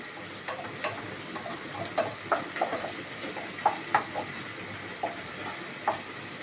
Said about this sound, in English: So now we are frying onions